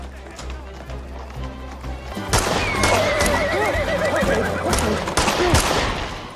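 A horse gallops and neighs while carrying riders in a rescue escape, with whinnies and running hoofbeats over a busy dramatic soundtrack, moderately loud throughout.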